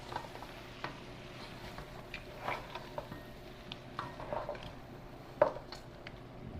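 A goat head curry being stirred in a hot pot, with soft scraping and clinking strokes over a low simmering bed, one sharper knock near the end, no voice.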